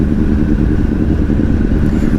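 A 2007 Honda CBR 1000RR Fireblade pottering downhill at about 30 in a high gear, its engine a loud, steady low rumble with wind noise, heard close from the rider's position and no talk.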